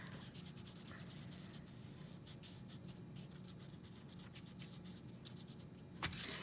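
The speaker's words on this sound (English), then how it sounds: "I'm gonna erase the side lines that are straight" Steady rubbing and scratching of an eraser removing pencil lines on paper, soft and close, continuing in short strokes with a brief louder scrape near the end.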